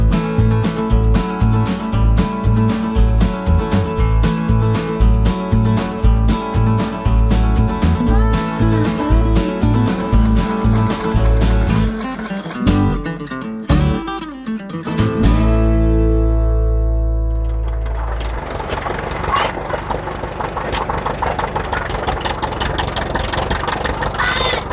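A 1961 Allis Chalmers D10 antique tractor engine chugs loudly with a steady, regular knock for about fifteen seconds, then cuts off, leaving a duller rumbling hum.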